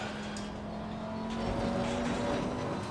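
An Audi race car engine drones steadily around Imola in Assetto Corsa Competizione, a faint, sustained engine tone that swells slightly mid-lap as it accelerates, with no voices.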